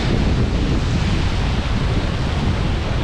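Ocean surf rolls onto the beach at Wildwood Crest, New Jersey, a dense, continuous wash of waves mixed with heavy wind rumble on the microphone, with no voices.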